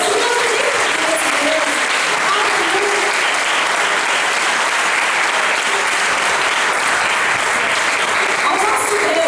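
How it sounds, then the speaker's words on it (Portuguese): Sustained, loud applause from a large church congregation fills the whole stretch, steady and unbroken. "Dê um aplauso a esse Deus."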